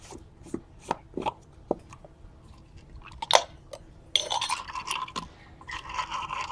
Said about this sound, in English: I'm going to dip these and I'm going to scrub them